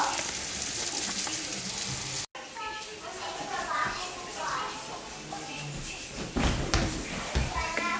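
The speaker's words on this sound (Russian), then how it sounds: "Рыбка у нас тут жарится, толстолобик." Silver carp sizzles and crackles in a frying pan, with a brief cutout and a few utensil clinks; a voice talks over the frying.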